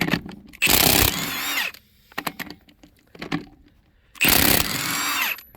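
Impact wrench zipping lug nuts off the front wheel of a 2001 Jeep Cherokee, two loud long whirring bursts at the start and end with shorter clicks and rattles between, close and alone.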